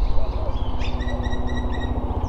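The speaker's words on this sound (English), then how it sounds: "Birds chirping in the park here." Birds chirp in a park on the west side, short high calls and brief tweets scattered over a loud, continuous low rumble of traffic or wind, faint and distant rather than close.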